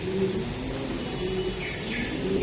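Racing pigeons at a loft coo softly and steadily, a low repeated murmuring close by with faint chirps over a continuous background hum and no talking.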